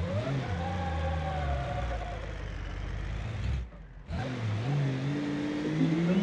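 A naturally aspirated diesel car engine in BeamNG.Drive revs steadily with rising harmonic tones, dips briefly as the throttle drops near the middle, then climbs again, loud and close, with no voices.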